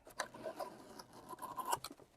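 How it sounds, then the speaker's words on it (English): Gift ribbon pulled along a scissors blade to curl it, giving a few soft, close scraping and rasping strokes over roughly two seconds, quiet and without talking. "you hold the edge of the ribbon against your scissors as you pull it across the blade like this"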